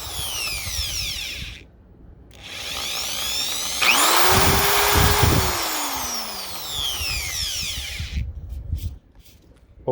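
A Chicago Electric 1/2 inch hammer drill whirs up and down in pitch as the variable trigger is eased and squeezed, rising to a loud high-speed whine midway before slowing and cutting off, heard close and alone.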